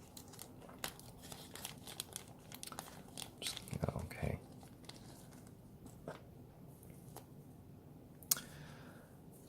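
Small plastic bag holding tags for a new old stock Caravelle Sea Hunter 666 dive watch torn open during an unboxing, giving faint close crinkling and rustling in bursts, with a sharper tearing burst midway and a click near the end.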